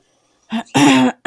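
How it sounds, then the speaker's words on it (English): A short rasping throat clear in two quick bursts, close and fairly loud, followed by the start of a voice. "Let me clear my throat."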